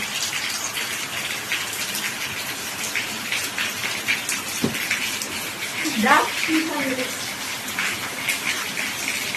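Steady rain pours down outdoors, a constant wash of falling water under which a person speaks briefly.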